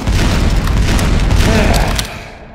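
An explosion in Team Fortress 2, a loud, sustained booming blast with rumbling debris noise that fades out over the last half second, with some voice mixed in.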